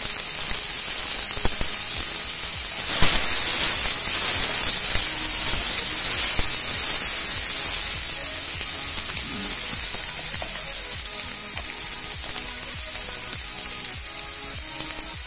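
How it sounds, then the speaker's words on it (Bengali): Chopped onions frying in hot oil with cumin give a loud, continuous sizzle and hiss close by, with occasional stirring scrapes and no talking. "পেঁয়াজটা খুব তাড়াতাড়ি নরম হয়ে যাবে। পেঁয়াজটা ভাজা ভাজা হয়ে এসছে"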